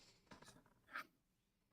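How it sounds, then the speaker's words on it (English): Faint, light scratching strokes of a metallic pencil drawn over the surface of a Miniart 1/48 P-47D-25RE Thunderbolt scale model kit, a few short passes close up, ending in a sharp click. "you can just go across the top of them with a metallic pencil"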